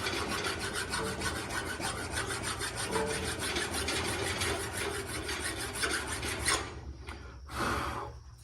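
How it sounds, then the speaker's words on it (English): A hand file rasps steadily back and forth across a metal part in a rapid, continuous rhythm, close and clear, then stops with a few short strokes at the end. "I'll try to clean that up with a file"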